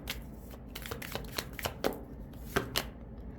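A deck of tarot cards is shuffled up close, crisp riffling and slapping bursts that come in quick uneven flurries with sharp card taps throughout.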